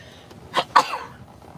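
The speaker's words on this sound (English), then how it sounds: "I'm going to sneeze already every time I start." Two short explosive bursts from one person, the second sharper and louder, a stifled sneeze, with no talking around them.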